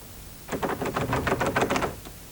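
Rapid knocking on a locked door, a quick burst of about a dozen sharp raps in uneven rhythm, close and moderately loud, with no talking.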